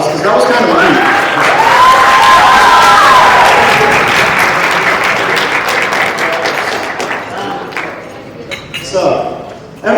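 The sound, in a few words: audience applause for performers at a gala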